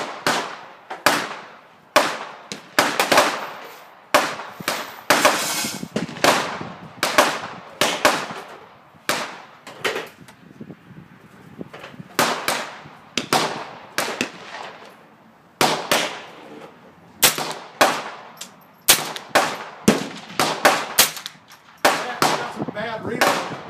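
An AR-15 fitted with a CMMG .22lr conversion kit fires a long run of sharp, loud shots in quick irregular bursts with short pauses, at close range outdoors.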